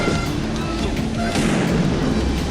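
Flashbang explosions go off at a protest, sounding as dull booming bursts over a loud, constant crowd roar, with a heavier thump about midway through.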